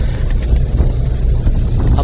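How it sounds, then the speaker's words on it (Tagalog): A steady motorboat engine drone rumbles beneath heavy wind buffeting, continuous and close throughout, with no talking. "a boat na may motor just in case po"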